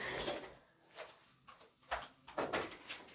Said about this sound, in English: Let me close my door because I could hear my baby.